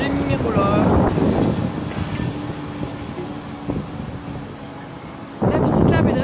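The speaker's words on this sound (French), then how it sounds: "Puis il y a un peu de vent" Wind buffeting a microphone during a ride along a bike path, a loud continuous low rumble and rush with a swelling gust near the end, no talking.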